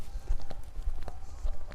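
Hooves clop in an uneven rhythm on a hard surface, several soft thuds against a low outdoor rumble.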